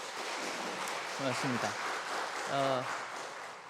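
A church congregation applauds, a dense wash of clapping that carries on throughout at moderate level while someone briefly speaks over it.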